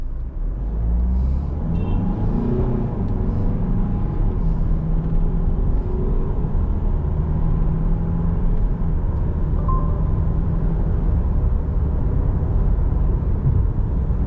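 A Citroen C5 Aircross accelerates from standstill to 100 km/h in normal mode, heard from inside as a continuous loud engine and road rumble that holds steady for the whole run.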